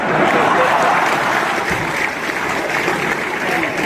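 Steady applause from an audience fills a poetry recital hall, a dense continuous wash of clapping that stays loud throughout.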